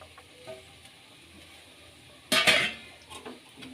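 Cooked rice being stirred into soya bhurji in a pan on a low flame, with one short burst of scraping and clinking around the middle, then quieter faint stirring.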